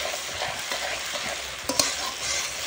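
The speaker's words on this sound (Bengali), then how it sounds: "পেঁয়াজটা টমেটোটা একটু হালকা হালকা লাল লাল করে ভেজে দেবো" Onion and tomato fry in a pan for fish curry, giving a dense, even sizzle close up, with faint stirring scrapes and a couple of small clinks partway through.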